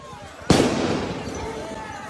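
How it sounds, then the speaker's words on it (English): A flashbang grenade goes off at a Seattle street protest, one sharp loud bang that trails into a long noisy wash of echo and crowd sound, with a voice faintly heard nearby. "We see the flashbangs are out."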